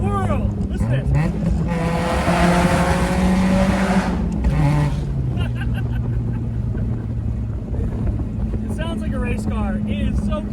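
A Mazda Miata swapped with a Ford Fusion 2.5L engine and running a blast pipe exhaust revs loudly, its harsh rasp rising and falling close by, with people talking over it.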